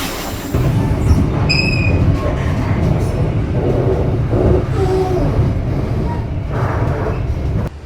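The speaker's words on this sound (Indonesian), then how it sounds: "Di sini kereta yang aku naiki Putri Deli berbelok ke kiri ke arah Kisaran dan arah Tanjung Balai." Inside the Putri Deli passenger train, a loud continuous rumble of wheels on rails rolls on for several seconds, with brief high wheel squeals early on and the roar dropping away at the end.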